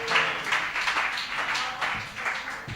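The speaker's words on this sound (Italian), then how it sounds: "Accogliamo con un applauso" Studio audience applause on an Italian talk show greets two guests from a boxing team, a steady wash of clapping lasting a few seconds at moderate level.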